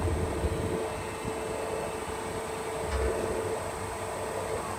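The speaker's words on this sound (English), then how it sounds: "the compressor is sounding a little funny with 14 ounces of refrigerant missing" A steady mechanical hum and drone from an internally damaged electric refrigeration compressor missing 14 ounces of refrigerant, with a constant tonal whine and rough low rumble throughout.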